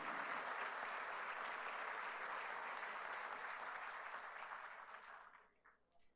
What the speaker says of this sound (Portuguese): Queria pedir uma salva de palmas para eles e para a equipe